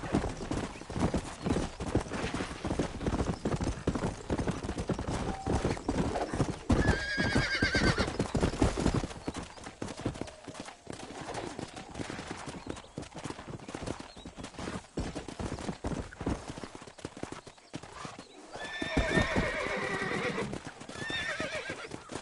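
Horse hooves clip-clop at a gallop through a Red Dead Redemption ride, loud and steady throughout, with a couple of sharp neighs and whinnies breaking in near the middle and end.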